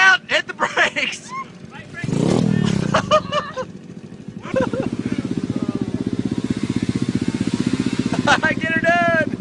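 Scooters and pit bikes ride through muddy woods, small engines revving in bursts and then droning steadily nearby with a rapid pulsing putter, while riders shout and talk over the engines.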